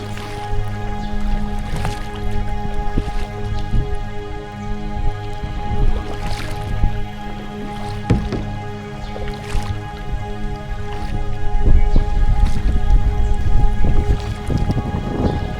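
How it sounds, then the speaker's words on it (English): Paddling a Nucanoe U10 canoe along the Buffalo River: irregular splashes and drips of the paddle strokes over a steady low hum, with soft knocks and a louder burst of water near the end. "as we paddle through this stretch of the Buffalo"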